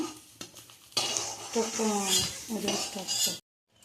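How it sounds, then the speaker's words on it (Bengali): Fried cauliflower is lifted out of an oily pan with clinks and scrapes of a metal utensil against the pan, close and fairly loud, with a voice partly over it before an abrupt stop. "ফুলকপিগুলো তুলে নিই।"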